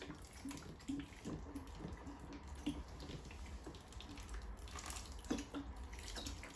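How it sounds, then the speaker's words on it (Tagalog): Water poured onto kitchen-grown plants such as lemongrass, a quiet steady trickle and splash with small gurgles and drips, close by and faint. "Bigyan natin ng tubig. Kailangan maraming tubig."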